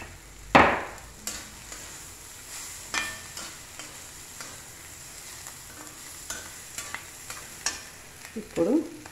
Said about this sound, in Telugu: జీలకర్ర వెల్లుల్లిపాయ ఇలా వేస్తే స్మెల్ బాగుంటుంది